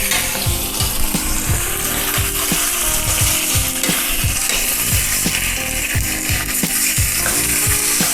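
Pork chops brown in a hot frying pan with a dense, continuous sizzle and repeated scraping or clicking bursts, close and loud with no talk.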